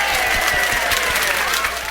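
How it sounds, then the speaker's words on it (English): A studio audience applauds steadily, a dense wash of clapping at full volume throughout, with a few voices mixed into the crowd noise. "Now is the time to applaud because we made something funny."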